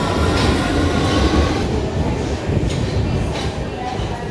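A train at a railway station in London, running before departure to Hastings, gives a steady rumbling roar with clattering and hissing over a noisy platform, and a few faint voices mingle in the background.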